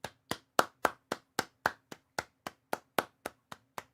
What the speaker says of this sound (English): a Ruben Amorim clap?